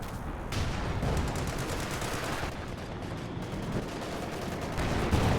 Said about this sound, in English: Obersassen advance way forward into the artillery barrage.